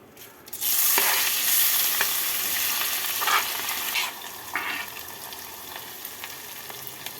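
Rice and lentils frying in a pan over low flame after whole spices were tempered for khichudi, a strong hiss as they hit the oil, settling into steady sizzling with several spatula stirs and scrapes.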